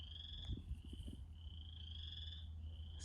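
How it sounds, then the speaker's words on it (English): Spring peeper frogs call from outdoors, their thin, high, repeated peeps running almost continuously, moderately faint over a low steady background rumble. "can you hear the spring peepers? The frogs are making noise"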